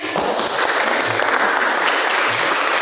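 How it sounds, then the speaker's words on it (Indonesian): Applause from a classroom of students, steady and dense for the whole stretch, with a faint voice or two underneath. "Beri tepuk tangan dulu"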